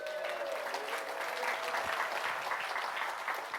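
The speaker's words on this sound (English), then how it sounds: "Hold for applause." Steady, fairly distant applause from a conference audience welcoming attendees to the Peer to Peer 2018 summit keynote, sustained evenly throughout.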